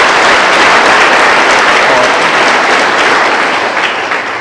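Steady, loud applause from an audience welcoming a guest at a school gathering, sustained dense clapping that fills the whole stretch and eases slightly toward the end.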